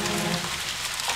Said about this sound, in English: Let's put rain, because we want to put bad weather outside, so less people go outside.